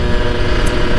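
Kawasaki Ninja RR two-stroke motorcycle fitted with a racing coil, revving loudly and steadily on a street test ride, a dense continuous engine roar with no talk.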